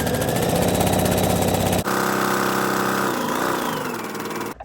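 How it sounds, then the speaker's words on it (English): A sewing machine stitches a seam on an apron lining with a fixed back stitch, giving a loud, steady mechanical whir that shifts pitch partway through and then stops near the end, with no talking. "do a fixed stitch or a back stitch and just sew all the way down"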